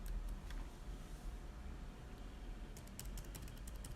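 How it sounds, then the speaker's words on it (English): Keys clatter on an HP ProBook laptop keyboard during a test after a mainboard replacement. A few scattered presses are followed by a quick, near burst of typing at the end, over a low background hum. "let me check the keyboard here."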